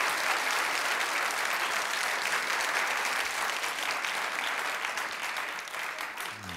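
An audience breaks into sustained applause, a dense wash of many hands clapping at once that stays strong before slowly tapering near the end.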